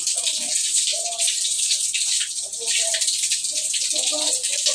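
A shower fed by an electric water pump sprays steadily, a broad continuous hiss of falling water running throughout while someone talks over it.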